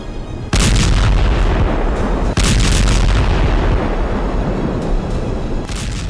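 Massive MK-84 unguided bomb explosion over Gaza, a sudden deafening blast followed by a sustained roaring rumble, with a second burst midway, loud and close with no voices.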